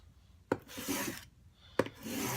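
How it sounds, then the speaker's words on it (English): A plane iron is sharpened on paper abrasive laid on a board, with two long, close rasping strokes, each starting with a sharp contact tap and scraping for about a second. "Keep our paper abrasive even all the way. We're going to long strokes, pushing down with that one hand there,"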